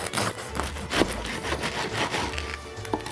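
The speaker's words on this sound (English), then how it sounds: "now we're gonna cut into it to see what we got going on in there" A knife saws back and forth through the crisp crust of a ciabatta loaf, with scratchy, crackling rasps and crumbly rustling, close up.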